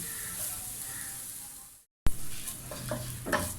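Coconut roasting in a pan crackles with a gentle sizzle while a spoon stirs and scrapes it close by, briefly cut off by a moment of silence before the stirring resumes.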